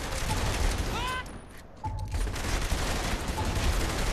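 Rapid bursts of video game gunfire crackle through the whole scene, loud and dense, with a brief dip in the middle and a few synthetic tones over the shots.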